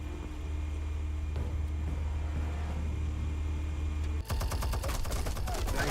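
Rapid gunfire bursts in the Batman Telltale video game crackle loudly over a steady low engine-like drone, turning into sharper, denser volleys near the end.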